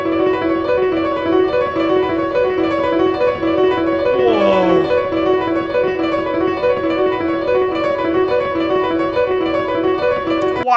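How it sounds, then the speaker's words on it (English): Two pianos play the same repeating pattern at slightly different tempos, drifting out of sync in the minimalist Steve Reich phasing style, a dense steady shimmer of notes with no talking. "there's 2 pianos here. One tempo is phasing out of sync with the other piano."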